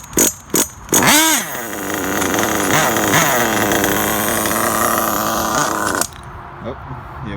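A Losi 8ight RTR nitro truggy engine sputters through a few short pops and then catches. It screams loud and close through rapid revving swings before cutting off, leaving a faint idle.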